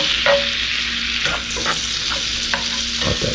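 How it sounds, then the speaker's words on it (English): Shallots sweating in butter in a pan, a steady close sizzle punctuated by several clinks and scrapes of a utensil stirring. "Let that shallot sweat."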